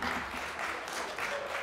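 Brief applause from the audience at a European debating championship final for a debate partner, an even, moderately quiet wash of clapping without pause.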